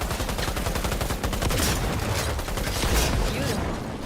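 Rapid gunfire in Cyberpunk 2077, aimed at an explosive in the game, rattles on in a dense, loud, unbroken volley for the whole four seconds, with sharp crackling bursts layered on top.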